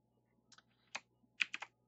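Keys clatter on a computer keyboard in a few short, sparse bursts, close and fairly quiet, with near silence between the strokes.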